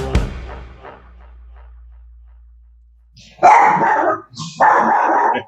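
A very small dog lets out two bursts of sharp, yappy barking after a short quiet stretch, close and loud, with a fading thud at the start.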